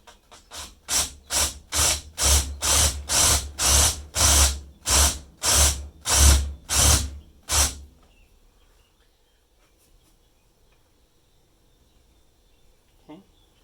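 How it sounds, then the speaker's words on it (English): A battery drill countersinks holes in a wooden kitchen table leg, whirring in about a dozen short, loud bursts with brief pauses between them, then stops, leaving near silence. "I'm just going to do that with battery drill"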